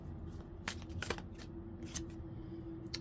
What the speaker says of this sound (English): let's shuffle and see what's coming out